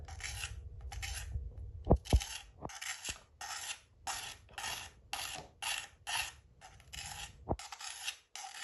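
Pruning shears drawn along a 600 grit whetstone, the bevel rasping in repeated short strokes, about a dozen close scrapes separated by brief pauses, with a few light metallic taps.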